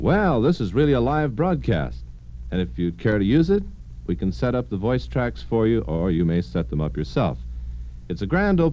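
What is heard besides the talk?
No everyday noise stands out behind the speech.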